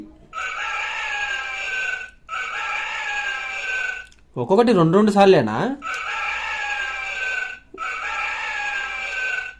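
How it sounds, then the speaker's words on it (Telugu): A single electronic rooster crow from a rabbit-shaped toy phone, tinny and warbling, rising and falling for about a second and a half between stretches of people talking. "తర్వాత కోడి"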